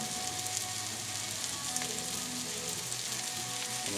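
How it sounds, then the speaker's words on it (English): Steady, loud sizzling of flounder frying in hot oil in a pan, a continuous crackling hiss with no talking. "You set it in there just for a minute and let it start frying like that"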